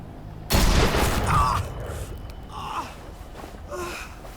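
Gunfire in The Walking Dead video game, one loud broadband blast that rings on for about a second, followed by quieter scattered noises and faint sounds further back.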